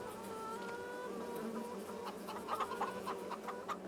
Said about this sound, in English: Our bees are gonna be making honey.